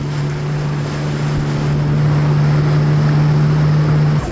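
A jet ski riding over waves off Miami, its engine holding a steady loud whine while wind and splashing water rush past the microphone throughout.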